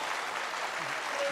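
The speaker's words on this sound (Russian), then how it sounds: "И мы аплодируем первому финалисту капитал-шоу «Поле чудес»" Studio audience applause on the Russian TV game show Pole Chudes fills the whole short stretch as a steady wash of clapping, fairly loud and continuous.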